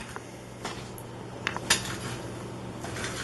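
Knife and utensils clatter against a plate or pan while smoked BBQ spare ribs from a Masterbuilt smoker are sliced, with a few sharp clinks over a steady background hiss.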